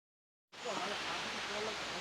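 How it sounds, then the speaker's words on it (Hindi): Water rushes steadily down a small stream in a forest gully, a dense hiss starting abruptly and continuing close and even with no voices. "थोड़ा सा गधेरे में आपको पानी का जो है साउंड सुनाई दे रहा होगा।"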